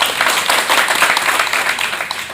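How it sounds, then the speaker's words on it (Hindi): Loud, steady applause from an assembled crowd welcoming members of the Bihar village defence force at a local gathering, a dense wash of clapping that runs without break and with no talk. "इन सभी के लिए जोरदार तालियों से स्वागत किया जाए।"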